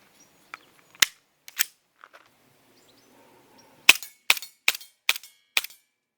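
A Cybergun VFC FN FNX .45 airsoft pistol fires sharp, snappy cracks: two isolated shots, then a quick string of five in rapid succession, close and loud against near silence.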